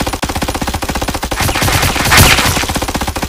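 Rapid machine-gun fire from an Among Us animation set on the Airship, a steady stream of evenly spaced shots that swells into a louder, denser burst near the end, with no talking.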